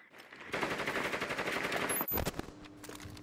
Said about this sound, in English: Oh, they're already shooting shit.